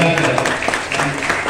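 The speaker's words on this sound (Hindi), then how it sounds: "तालियां बजाकर" Applause from a school crowd during a national flag hoisting ceremony, dense clapping held steady and fairly loud from start to finish, with voices mixed in.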